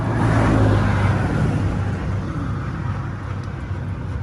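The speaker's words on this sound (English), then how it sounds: "This is what happens when your fan clutch is slipping and you're trying to get home so you can fix it while climbing a mountain" A truck engine roars steadily and loudly while climbing a mountain, its slipping fan clutch adding a constant whir over a deep low rumble, with a strong swell near the start.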